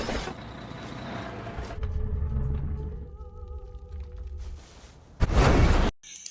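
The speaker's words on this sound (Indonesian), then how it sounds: "kemudian bomnya meledak yang membuat listrik padam" A bomb explosion in a film: a deep rumbling boom swells and fades, followed by a sudden loud blast that cuts off abruptly.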